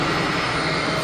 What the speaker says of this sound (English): See an aircraft on final, and an easyJet 320 is rolling